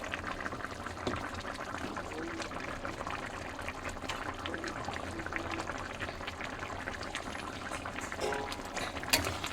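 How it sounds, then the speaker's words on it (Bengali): A pot of fish curry with brinjal, potato and tomato simmering on the stove, giving a steady soft bubbling and sputtering that continues throughout at a low, even level with a few brief pops near the end. "এখন ফুটুক"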